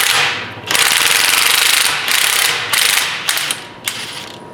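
Rapid pneumatic impact wrench bursts loosening a nut on the front axle of a 1980 Chevy Silverado, several loud close hammering runs separated by short pauses, no talk.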